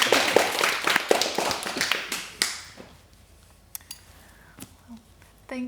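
A small audience gives a round of applause at a BRIT Live community event, a couple of seconds of scattered close claps that thin out into sparse taps and then quiet.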